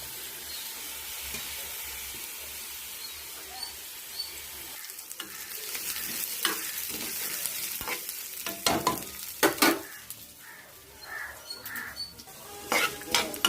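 Sesame seeds, fenugreek and lentils dry-roast in a pan while a spoon stirs them, giving a soft continuous sizzle with irregular scraping and metallic clinks that grow louder and more frequent toward the end.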